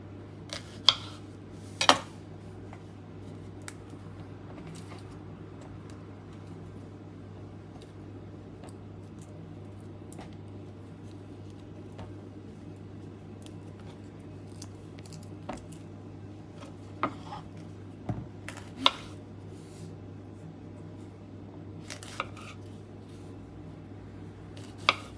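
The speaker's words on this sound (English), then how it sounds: "we're going to de-stalk them, cut them in half, and put them in a baking tray" Roma tomatoes being cut in half and placed in a baking tray, with sparse soft knife taps and occasional sharper clinks of the tray over a steady low hum, quiet and unhurried.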